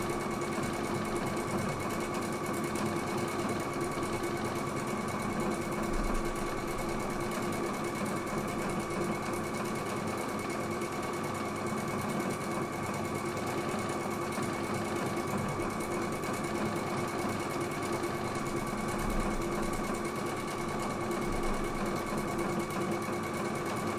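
A Husqvarna Viking Epic 2 embroidery machine stitches a pattern with a continuous steady whirring hum that holds at an even level throughout, near and moderately quiet with no talk.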